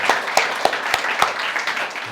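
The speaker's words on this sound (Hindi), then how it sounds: "जोरदार ताली बजा दीजिए एक बार" A group of students clapping in applause at a yoga session, a short burst of loose, uneven claps with several sharper hits, close and fairly loud, with no talking.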